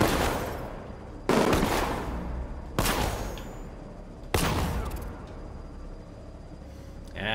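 Guns fire in Batman: Arkham Knight in four loud, sharp bursts spaced roughly a second and a half apart, each decaying into a long reverberant tail and trailing off to quiet at the end.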